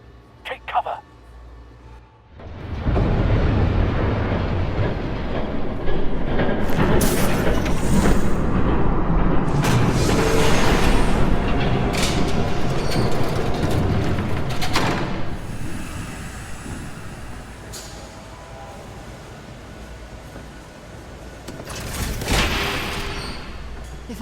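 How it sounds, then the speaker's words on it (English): A train in the Batman: The Telltale Series video game approaches and rumbles past, a loud sustained roar with heavy booming and clattering bursts that swells, holds, and gradually fades toward the end. "There's a train coming. Take cover."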